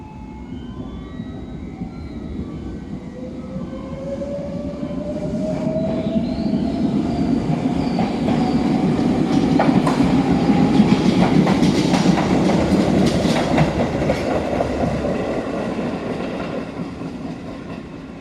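A train rolls through Ota station in Japan with steady rumbling and clickety-clack of wheels on rails, rising and easing off, with faint wheel squeal and platform ambience and no talk.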